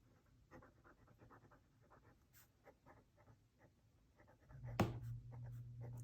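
Writing with a Pilot Vanishing Point fountain pen with an extra fine 14 karat gold nib and De Atramentis ink: faint, quiet scratchy strokes in short bursts, ending in a louder knock.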